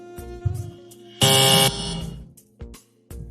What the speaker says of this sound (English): Contestant 4, hit your buzzer.